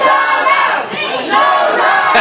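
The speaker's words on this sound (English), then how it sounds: "As the crowd starts chanting, no timeouts to John Skyler" A wrestling arena crowd chants loudly in a rhythmic, swelling roar that dips briefly midway before surging again, a dense mass of voices filling the hall.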